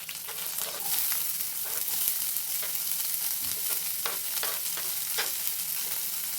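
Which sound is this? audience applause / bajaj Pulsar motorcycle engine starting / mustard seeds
mustard seeds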